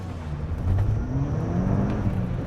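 A track-built Mk5 VW Golf GTI launches from a standstill at around 3,000 RPM, its engine note climbing steadily as it pulls away, loud and close, without speech.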